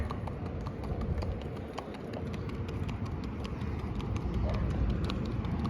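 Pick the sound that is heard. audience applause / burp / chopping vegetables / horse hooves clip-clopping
horse hooves clip-clopping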